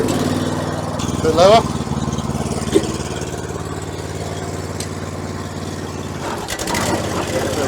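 A large tiller's engine chugs steadily while it tills, a close mechanical drone with a short rev near the start, as someone talks over it.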